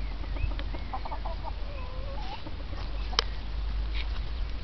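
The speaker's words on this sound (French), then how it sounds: "Adieu la petite jeunesse des poules. Attends, je filme le coq." Chickens and a rooster on a farm cluck close by in short, irregular bursts over a low steady rumble. No one speaks.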